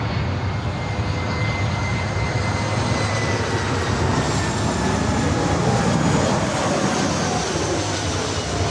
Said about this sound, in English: That's the flight coming in from Denver on the Delta A319.